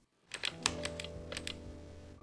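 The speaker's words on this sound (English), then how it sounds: "mention it's a wireless keyboard, so you can turn it on anytime. The keys are also backlit." Clicking keystrokes on a backlit wireless keyboard, a quick irregular run of crisp taps close up with no voices.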